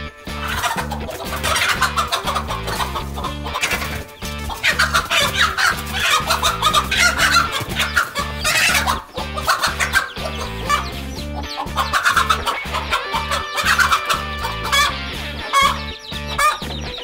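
A mother hen clucks loudly and rapidly while fighting off a king cobra, her agitated calls coming in close, repeated bursts for the whole stretch.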